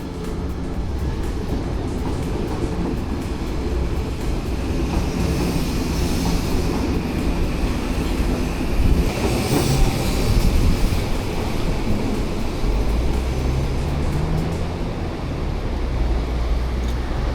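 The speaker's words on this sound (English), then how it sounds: "Here we go, the train. Rapid Express to Shinjuku just arrived." Odakyu line Rapid Express train bound for Shinjuku arriving at a Tokyo level crossing, a loud sustained roar of wheels on rails that swells midway and holds steady throughout.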